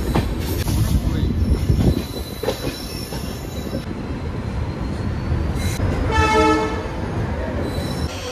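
A passenger train pulls into NJP junction station in North Bengal, wheels squealing on the rails over a steady rumble, with a drawn-out horn blast and a long rising screech near the end.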